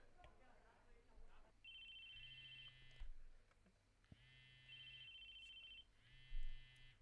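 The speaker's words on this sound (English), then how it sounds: "It was my cell phone." An electronic cell phone ringtone from the game Chaos;Head NoaH chirps in three repeated bursts, each a bright warbling tone about a second long separated by short pauses, with a low buzzing vibration underneath and faint background sounds.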